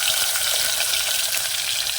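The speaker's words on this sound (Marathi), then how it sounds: "तेल तापलं यामध्ये ना कांदा घालून घेऊ" Onion frying in hot oil in a pot on a rural wood-fired chulha stove, a steady close bright sizzle and crackle with no talk.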